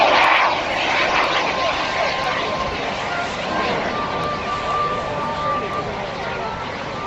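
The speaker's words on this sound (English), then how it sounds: "using the motor of powering back up again to push the glider back up in the air" An electric motor on a model glider powers back up in flight at an outdoor model air show, a loud, sustained propeller whine and drone that stays steady throughout with wind noise.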